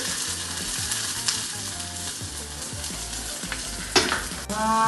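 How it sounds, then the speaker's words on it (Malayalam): Small chopped onions and curry leaves frying in hot oil crackle and sizzle steadily, while a spoon scrapes and stirs the pan and a few louder clanks sound near the end. No voices are heard. "കറിവേപ്പും കാച്ചി പോരാൻ വേണ്ടിയിട്ട് ഞാൻ എണ്ണ ഒഴിക്കുന്നുണ്ട്"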